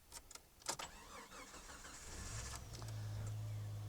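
A 1991 Jeep Cherokee XJ engine, after a collision, cranks in a few quick bursts, then catches and settles into a steady, low rumbling idle that grows slightly louder.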